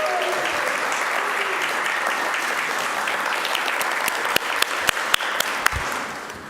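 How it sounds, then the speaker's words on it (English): Applause from an audience at an awards ceremony, a broad steady wash of clapping from many hands, with a few sharper individual claps standing out near the end as it tapers. "Clap for yourselves."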